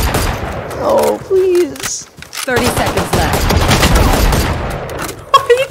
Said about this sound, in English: It's not an AR, it's a rifle.